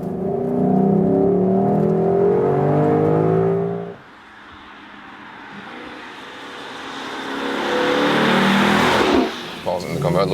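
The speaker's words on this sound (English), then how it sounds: "Let's hit the throttle once more." A Lexus LC 500 convertible accelerates hard. Its engine and exhaust build in a loud, rising roar, ease off briefly, then climb again in a second strong pull.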